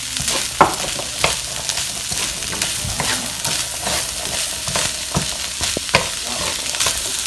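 An onion and green chili mixture being stirred in a hot pan, with loud steady sizzling and repeated scraping strokes of the spoon, close up.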